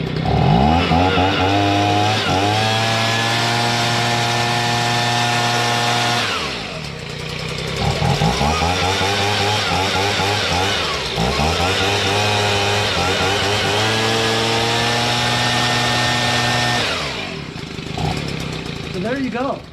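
Stihl BG55 two-stroke leaf blower engine running after a carburetor adjustment, a loud close buzzing drone that revs up and down in several surges with brief dips between, alone without talk.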